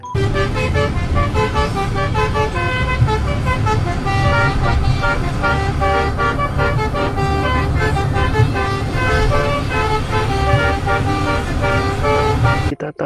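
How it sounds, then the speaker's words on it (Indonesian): A Laju Prima bus sounds its horn in loud, sustained tones that run almost without a break for about thirteen seconds, over roadside traffic, then cut off abruptly. "yang ini ada bus Laju Prima"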